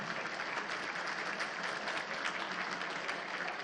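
Audience applause at the 70th annual B'nai Brith dinner, a steady wash of many hands clapping in a room, moderately distant and even in level from start to end.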